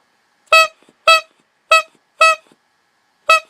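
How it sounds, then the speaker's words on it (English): Five short, loud car horn honks, evenly spaced with brief silences between them, close by and alone. "Okay, that was 5 honks."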